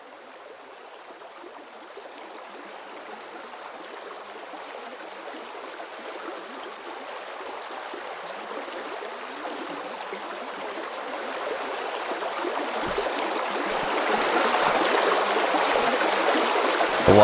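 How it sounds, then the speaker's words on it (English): Flowing water rushes in a steady broadband stream near a water wheel in the game Vintage Story, continuous and gradually louder toward the end, with no talk. "The water here is noisy."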